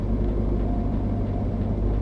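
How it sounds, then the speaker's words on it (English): A car passing in a truck simulator game, a steady low engine rumble and hum that stays level and close over a couple of seconds, with no talk. "There's a car coming here."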